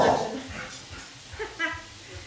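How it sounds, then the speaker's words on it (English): A dog whimpers and lets out a few short yips, fairly faint in a kitchen while pasta primavera is being cooked, with brief bursts scattered across a couple of seconds. "We love him, he's a great dog"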